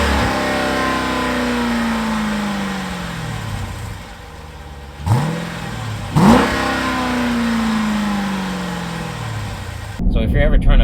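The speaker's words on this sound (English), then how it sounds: "if I tried to rev the car, for some reason it would hang the revs" A 2020 Jeep Grand Cherokee SRT engine revs up loud and close, its pitch climbing and then hanging high instead of dropping, with two sharp blips in the middle before the note sags and a final burst of noise.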